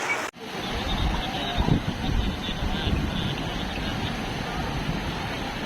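Flood water from the Ak-Buura river surging through Osh as a mudflow, making a loud, steady rushing roar like heavy wind, with excited voices shouting over it.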